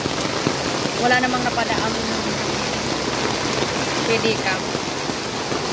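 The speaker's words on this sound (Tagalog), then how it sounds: "Lakas ng ulan." Heavy rain pours down in a steady, loud hiss that fills the whole scene, with a person speaking briefly underneath it.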